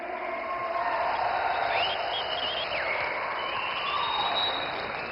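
Steady applause at the South India Natural Farming Summit in Coimbatore fills the whole stretch, a dense even wash of clapping from a crowd, with a faint whistle-like tone drifting over it.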